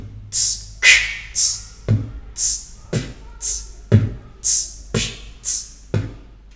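Beatboxed basic beat: a human voice imitates kick drum, snare and hi-hat in a steady looping pattern, with crisp, close hiss-like hats between punchy vocal kicks and snares, and no other sounds.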